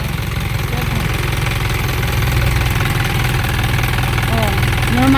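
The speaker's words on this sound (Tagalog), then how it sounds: "Very good engine." A Japan surplus truck's diesel engine idles steadily and close by, a continuous low rumble with a faint knocking pulse, loud throughout with no talk over it.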